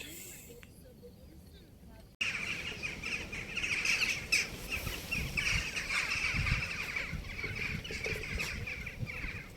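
Crows call repeatedly over the Izmir Kordon seafront, a cluster of harsh, squawking caws that starts after a quiet opening and carries on over steady outdoor background noise.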